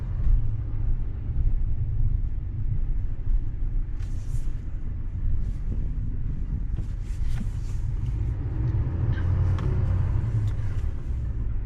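A Chevrolet Silverado 3500HD Duramax diesel dually pickup truck pulls slowly into a parking spot. A low, steady engine rumble is heard from inside the cab, with faint clicks and creaks on top and no talking.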